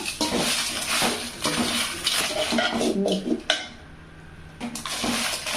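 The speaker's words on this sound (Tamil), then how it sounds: "அடுத்தது மிளகாயும் இதில் போட்டு வறுத்துக்கலாங்க" Dried red chillies and a little salt dry-roasting in a pan over low heat, with steady dry rattling and scraping from stirring, close and fairly loud, pausing briefly midway before resuming.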